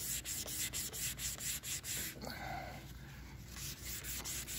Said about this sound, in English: of course I can scuff it down a little more